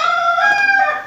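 A rooster crows close by and loud, one full drawn-out cock-a-doodle-doo lasting about a second, heard alone with no talk over it.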